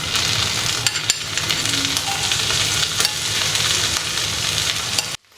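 Paneer cubes fry in butter on a hot dosa griddle, giving a loud, steady sizzle with occasional crackles before an abrupt cut to quiet.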